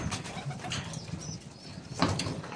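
Pigeons in a loft cage cooing softly, low murmuring coos close by and fairly quiet, with a brief rustle or flutter near the end.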